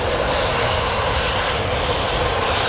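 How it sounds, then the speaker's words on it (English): Steady, loud broadband roar of an Air Transat Airbus A321neo airliner's engines heard from inside the cabin at Manchester Airport, an even continuous drone with no talk. "we're on this beautiful A321neo Air Transat."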